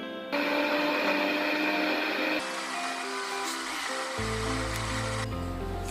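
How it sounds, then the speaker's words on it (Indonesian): A kitchen blender whirs as it purees coconut with a little water, a loud steady motor drone that shifts pitch partway through and settles into a lower, heavier hum near the end. "Untuk blender kelapanya kita kasih air sedikit."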